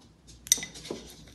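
A teaspoon scoops sugar into a cup of coffee, making one sharp metallic clink and then a soft scrape, quiet and close.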